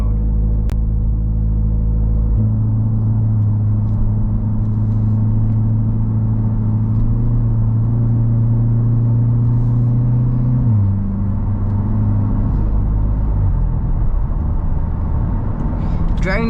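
A C8 Z51 Corvette rolls slowly along back roads in touring mode, its engine giving a steady low rumble with a deeper drone that shifts in pitch partway through, heard from inside the car throughout.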